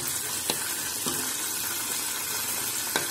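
Curry leaves with cumin and mustard seeds tempering in hot oil in a pan, a steady close crackling sizzle with a few sharper pops, for coconut chutney.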